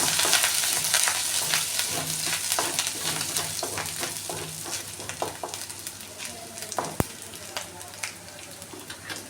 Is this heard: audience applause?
no